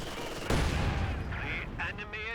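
Bursts of MG42 machine gun fire rattle through a Company of Heroes 2 battle, starting abruptly and continuing in rapid strings beneath steady game noise and a commentator's voice.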